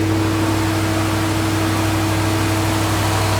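A blower engine runs steadily up close, a loud continuous drone with a constant low hum and broadband roar, unchanging and free of speech.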